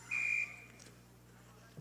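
A referee's whistle at a Bantam championship hockey game sounds as one short, fairly loud blast near the start. The rink stays quiet afterward apart from low background hum.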